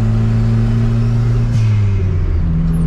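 A turbocharged Chevette's engine drones steadily while the car drives along, a loud, close, even mid-pitched hum with a slight pitch dip partway through and a faint whine above it, no speech.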